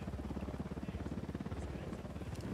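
Helicopter in the video game Ghost Recon Wildlands: a steady, rapid rotor thump with a pulsing rhythm, moderately loud and close, running throughout.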